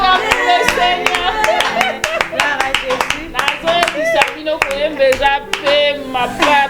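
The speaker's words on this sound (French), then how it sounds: "Qu'on acclame le Seigneur." An audience at a gospel gathering with a sister's singing group applauds, its rhythmic clapping loud and close, mixed with cheering voices and calls throughout.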